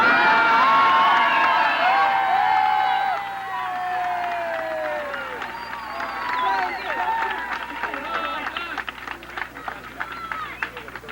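Election-night crowd at a 1978 midterm speech in Massachusetts cheering and whooping loudly, the roar easing after a few seconds into scattered shouts and claps that continue beneath a speaker's voice.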